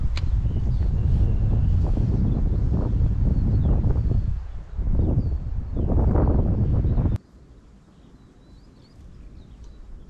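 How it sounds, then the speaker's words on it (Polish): Gusty wind buffets the microphone beside a river, a loud continuous roar with surges that cuts off abruptly, leaving quieter soft rustling afterward. "Troszkę wieje."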